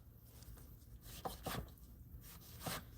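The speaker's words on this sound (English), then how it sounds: "And I just cut strips." A kitchen knife slices food into thin strips on a cutting board, producing several soft, faint taps and scrapes at an uneven pace.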